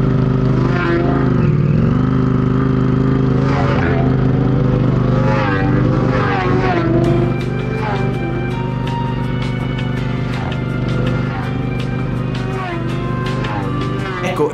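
Superbike restarted and ridden on a public road after a crash, a loud steady engine drone with rising and falling pitch as it revs through gears, heavy wind rush from about halfway.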